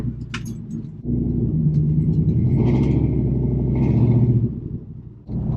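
A 1986 Chevrolet C10 pickup with an LS swap, driving around the block: a loud, steady engine rumble with rising revs as it accelerates, close and continuous, easing off near the end.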